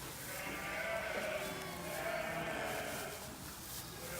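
Sheep bleat in a lambing shed, with several overlapping calls of varied pitch under a soft background murmur and some quiet talking nearby.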